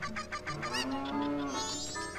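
A cow moos in the video game Majora's Mask. It gives a drawn-out, wavering low moo at close range over light farm ambience, with clucking-like chirps before it.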